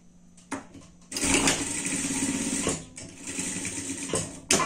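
Sewing machine stitching fabric for a Christmas hat for pets, running in close, steady bursts: a brief start, then a long whirring run, a short pause and another run, with no talking.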